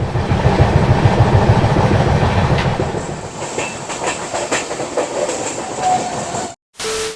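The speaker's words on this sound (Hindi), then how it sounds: "आज की जर्नी होने वाली है train number 12812 Hatia LTT express train में" Hatia–LTT Express, train number 12812, rolls along the rails with a loud, continuous rumble and rhythmic clickety-clack heard from on board, fading toward the end before a brief dropout.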